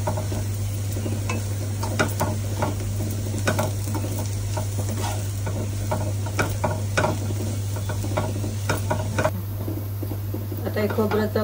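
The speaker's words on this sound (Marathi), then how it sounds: "खोबरं पण चांगलं भाजायला पाहिजे" Grated coconut roasts in a pan for a Malvani-style egg masala curry, giving a steady sizzle broken by repeated scraping stirs while someone talks over it.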